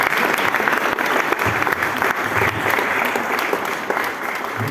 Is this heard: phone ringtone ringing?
no